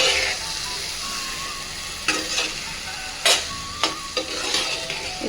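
Cabbage egg curry stirred in a sizzling pan, steady frying hiss with a few sharp scrapes and clinks of the spoon against the pan, close up.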